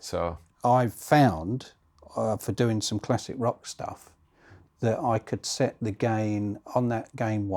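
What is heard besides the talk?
No everyday noises stand out.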